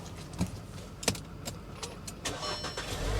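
A wrecked 2006 Chevy Corvette Z06 in a glass-strewn interior cranks over with a few sharp clicks and thumps, then its engine catches and builds into a steady close rumble.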